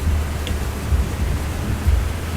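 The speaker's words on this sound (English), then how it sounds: "Okay, so we're back in the rain." Heavy rain pours steadily during a thunderstorm while storm chasing from a truck, with low rumbling thunder beneath the continuous hiss.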